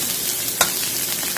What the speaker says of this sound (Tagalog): Gisa-gisa lang. Hanggang sa maigis natin. Hanggang sa maluto ang ating sibuyas.